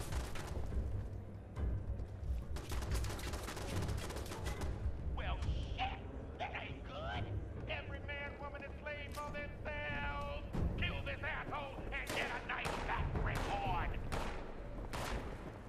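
Rapid bursts of Fallout 76 gunfire crackle through a long stretch of chaotic combat, with repeated volleys and booms and voices shouting over the shooting.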